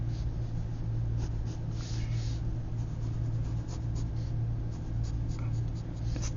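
Pencil scratching lightly on paper while sketching feathers, a steady soft scraping with small strokes over a constant low background hum.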